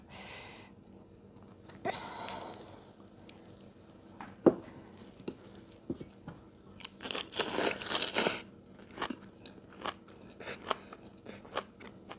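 Close, crunchy chewing and biting on rice mixed with red chili dip of grilled fish, eaten with blanched young katok shoots. The crunches come in irregular bursts with soft pauses and faint breaths between them.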